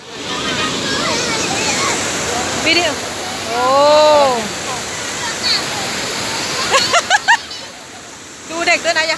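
Steady rushing roar of a waterfall runs throughout, loud and close, with people talking and calling out over it.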